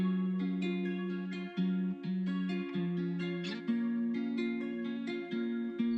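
An 8-bar guitar loop sample, slowed to 128 BPM and pitched down 200 cents, plays alone as a steady, mellow melodic phrase, with short dips between repeated bars.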